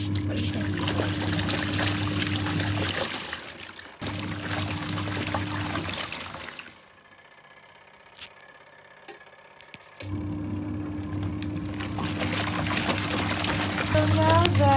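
A Superbrite portable washing machine runs with water sloshing and trickling, a steady loud churning that stops for a few seconds of near quiet before the motor and splashing resume.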